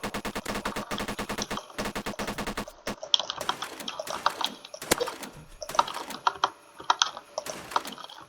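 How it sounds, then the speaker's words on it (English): Rapid-fire bursts from a Christmas minigun in the Roblox game Base Raiders, a dense rattling stream of shots at first, then scattered sharper cracks and impacts, loud and close with no talking. "He's using the Christmas minigun, which is an interesting weapon, I guess."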